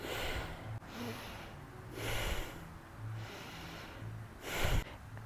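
Forceful yoga power breaths in and out through the nose come as a steady series of about five rhythmic, hissing nasal rushes, close and fairly quiet, the last one sharpest.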